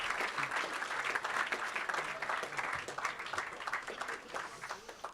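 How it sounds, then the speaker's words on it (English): Audience applause at a product launch event, a steady wash of many hands clapping, moderately distant and fairly faint, holding for about five seconds before tapering at the end. "applause."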